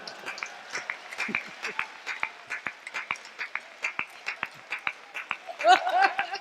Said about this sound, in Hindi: तालियां बजाओ जरा जो